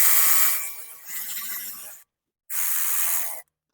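Tightening the belt tensioner bolt on a 1998–2004 Nissan Frontier engine, two close bursts of rapid ratchet clicking, the first longer with a brief dip, then a short pause before the second.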